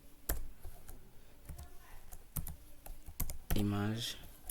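Scattered clicks of keys on a computer keyboard while a caption is typed in Microsoft Word, a few separate taps under quiet room tone. Someone speaks briefly near the end.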